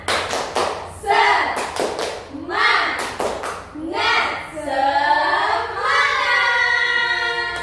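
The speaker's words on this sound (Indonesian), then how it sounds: "Oke, kita mulai 1, 2, 3, tepuk semangat." A group of children chants and claps together in a rhythmic classroom clap routine, sharp claps and thumps mixed with shouted voices, loud and close, with a sustained group shout at the end.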